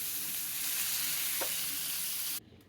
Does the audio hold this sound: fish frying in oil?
yes